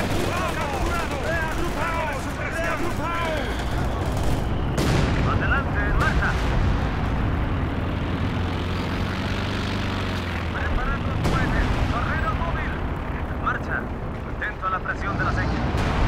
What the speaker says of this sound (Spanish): empiezo a trabajar con el obús